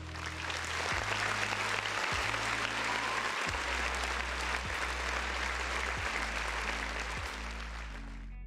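Sustained applause from a crowd, steady and dense clapping throughout, with no voices standing out.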